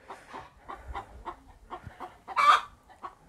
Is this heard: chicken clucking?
yes